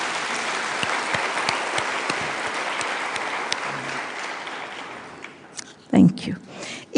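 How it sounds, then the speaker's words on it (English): A large audience at the University of Nairobi graduation ceremony applauds the graduates in a broad, steady wash of clapping that fades out, followed by a few louder bursts from a nearby source. "Let's clap for you."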